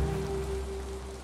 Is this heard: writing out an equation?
no